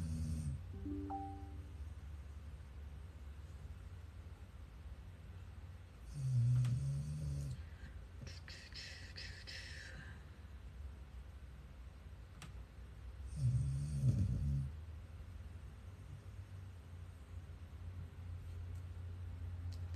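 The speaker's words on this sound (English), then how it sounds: "Please ignore my dog snoring under my feet." A dog snores under a desk at someone's feet indoors, two louder rasping breaths standing out against a steady low room rumble, with no talking.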